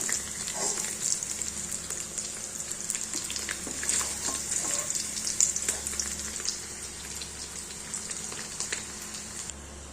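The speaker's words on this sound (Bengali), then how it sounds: "এইভাবে আবার সব পনিরগুলো ভেজে নিচ্ছি।" Paneer pieces fry in hot oil with a continuous bright crackling sizzle, spattering like light rain, steady and close throughout without any voices.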